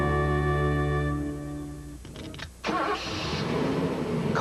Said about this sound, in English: Costly engine wear occurs when you first start your car